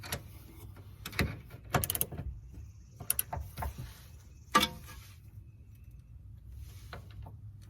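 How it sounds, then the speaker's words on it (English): Tightening the top 14 mm bolt on a brake caliper: a sparse run of close metallic ratchet clicks and tool knocks, with a few sharper clanks spaced across a quiet background. "Gonna go to the top bolt, make sure we're tightening it."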